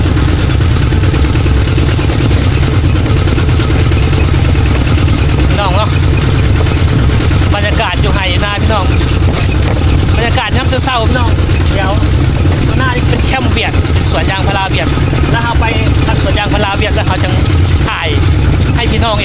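A rural tractor engine in southern Laos runs with a steady low, rattling drone throughout, close and loud, while someone talks over it.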